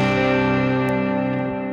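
A sustained electric guitar chord through an Opaque Drive overdrive pedal on its silver drive setting rings out with gritty breakup, thick harmonics and a touch of echo, held steadily.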